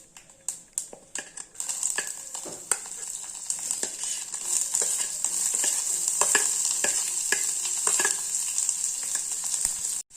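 Onion, carrot, ginger, green chillies and capsicum hit a hot pan with a few sharp clinks, then a bright, continuous sizzle builds and stays loud, with scattered spatula taps over it.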